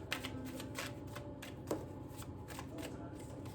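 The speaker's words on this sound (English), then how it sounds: "I'm going to cut the deck if nothing comes out and see if I can get you more cards" A deck of tarot cards is shuffled and cut close by, a quick run of riffling flicks and soft slaps, quiet and crisp with a faint voice in the background.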